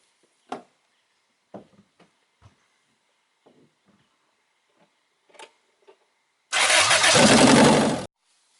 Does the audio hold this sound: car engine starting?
yes